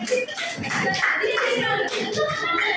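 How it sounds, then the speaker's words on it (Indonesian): Hands clapping in a classroom, a scattered, uneven patter from students running for a couple of seconds with faint voices mixed in. "Betul, tepuk tangan."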